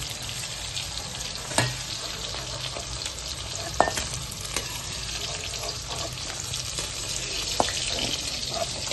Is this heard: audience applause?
no